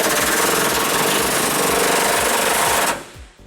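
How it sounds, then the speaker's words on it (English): An impact wrench hammers rapidly and steadily while loosening an 18mm frame bolt on a 2004 Ford Ranger, loud and close, then cuts off abruptly near the end. "we're going to loosen up the other bolt on our frame using an 18mm socket as well"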